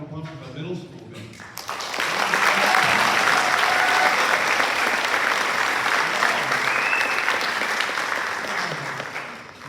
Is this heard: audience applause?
yes